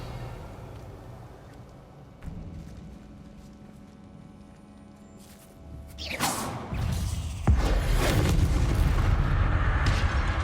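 Revelio spell cast in Hogwarts Legacy inside a grassy catacomb, heard as a low steady ambience that swells into a loud sweeping whoosh with sharp magical cracks and a sustained, booming shimmer that stays loud to the end.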